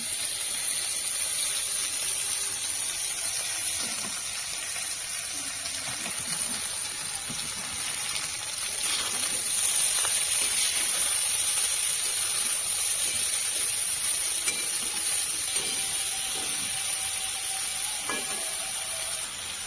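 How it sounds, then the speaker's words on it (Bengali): Kalmi greens (water spinach) hit hot oil in a pan, giving a steady, loud hiss and crackle of frying that carries on without a break, with a faint clink or two of a utensil now and then. "তেলের ওপরে আমি শাকটা দিয়ে দিচ্ছি"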